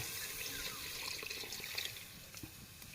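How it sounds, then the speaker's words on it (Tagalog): Water poured into a cooking pot for a sinigang-style soup, a faint steady splashing and trickle with no voices. "Ngayon po ay magdaragdag na ako ng tubig."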